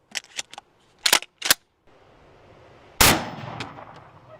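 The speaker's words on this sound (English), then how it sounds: "Moving up to the 12 gauge, shooting a slug." A 12 gauge shotgun fires a slug at a Lego target with one loud, sharp blast and a short decaying tail, after a few quieter clanks and clicks.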